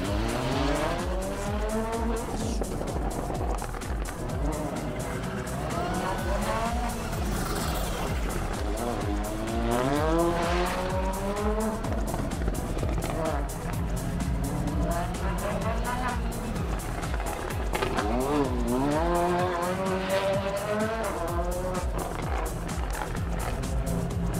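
A rally car on the Champéry stage of the Rallye du Chablais 2022 revs hard at the start, the engine note climbing and dropping repeatedly through gear changes, loud and sustained with a voice talking over it.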